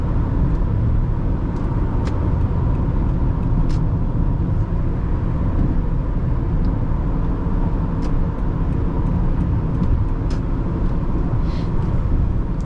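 Steady cabin drone of a 2009 Toyota Camry XLE V6 cruising on the road at highway speed, a continuous loud road and engine rumble with no talking.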